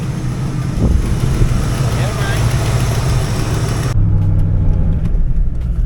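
A Ford Mustang Foxbody with an upgraded cooling system idles before a test drive, its engine giving a steady low rumble throughout, with a brief cut partway through.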